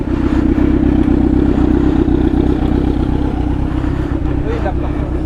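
A motorcycle engine runs steadily close by with a loud, low rumble and some clatter, while people talk over it.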